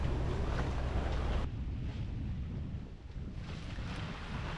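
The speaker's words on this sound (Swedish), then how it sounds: "Vi möter en av fiskebåtarna från Anholt som är på väg ut för kvällens och nattens fiske." A fishing boat from Anholt heads out to sea for evening and night fishing, heard as a low engine rumble passing amid strong wind buffeting and open-water wash, with no talk.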